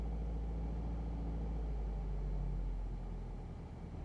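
Manual car engine pulling away in first gear at about 1500 RPM, a low, steady idle-like hum and rumble heard from inside the cabin, quiet and even with no talking.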